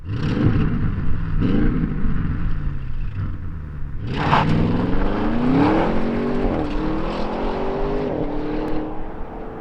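A 2021 Audi RS6 Avant performance wagon out on the road, its engine revving and rising through gears in loud, close sweeps, with a sharp surge of acceleration midway and road noise throughout.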